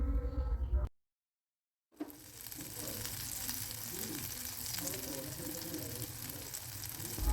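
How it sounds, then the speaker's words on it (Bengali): Two to three spoons of refined oil heat in a pan with a soft, even sizzle that runs steadily after a brief cut to silence near the start. "অপর সাইডে এখানে দিয়ে দেব দু থেকে তিন চামচ রিফাইন্ড অয়েল তেলটাকে এখন খুব ভালো করে গরম করে নিতে হবে"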